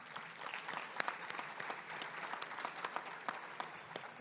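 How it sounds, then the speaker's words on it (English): An audience at a Chamber of Commerce monthly luncheon claps, a moderate and fairly distant patter of many hands with a few sharper individual claps standing out. "Let's give them an applause."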